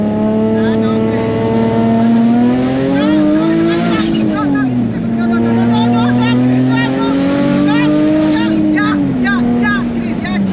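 A single turbo Nissan 350Z HR accelerates hard, its loud, close engine note climbing and dipping through gear changes in a continuous droning roar.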